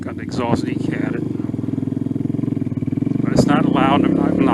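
A ridden Venom Ghost 250 dirt bike with a decat exhaust drones loud and close, its note pulsing and rising slightly toward the end while someone talks over it.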